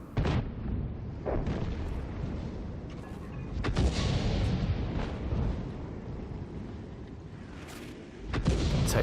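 Tank guns in the World of Tanks video game fire several heavy booms, with sharp blasts near the start, around four seconds and near the end over a constant rumbling battle background.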